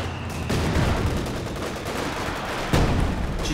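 Artillery barrage striking a mortar position in the video game Company of Heroes 2, a dense, continuous rumble of explosions and gunfire with a sharp louder burst near the end, no talking.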